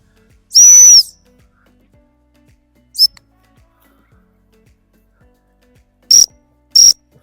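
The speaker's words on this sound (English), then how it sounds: "Good boy, a little bit of hump whistle." A dog-training whistle sounds in sharp, loud blasts during a retrieve session: one longer toot, a short pip, then two quick toots spaced apart over a quiet outdoor background with faint ticking.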